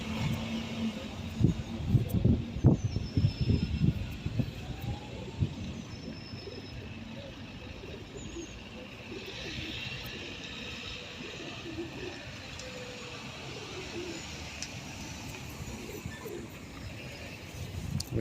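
Pigeons being fed at a bus stop outside Ealing Hospital, with soft cooing and scattered wing flutters near the start, then quieter bird calls over steady traffic hum and passing cars, no talking.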